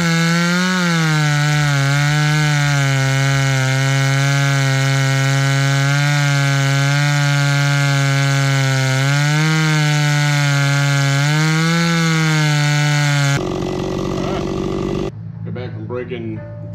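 A Stihl MS260 chainsaw, newly being broken in, revs hard and holds a loud, steady whine while cutting through wood, its pitch sagging and recovering under load, then abruptly cuts out near the end, leaving quieter background noise.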